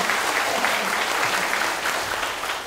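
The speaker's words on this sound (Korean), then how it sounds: "박수 드리세요." An audience at a South Chungcheong residents' autonomy talk show in 2013 claps, a dense, even burst of applause held steady and fairly loud throughout, with no talk over it.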